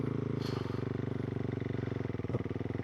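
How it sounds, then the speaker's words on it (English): Motorcycle engine running close by as the rider releases the clutch with a bit of throttle to pull away, a steady, loud, pulsing rumble throughout with a slight rise near the end. "You're going to want to let go of the clutch at the same time as giving it a bit of throttle"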